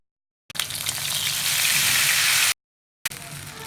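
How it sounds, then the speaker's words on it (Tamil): Torn green chillies hit hot oil in a home kitchen and crackle loudly for about two seconds, then stop. A shorter burst of sizzling follows after a brief gap. "இந்த பச்சை மிளகாய் இந்த கிள்ளி போட்டுருவோம். நல்லா வெடிச்சிடும்."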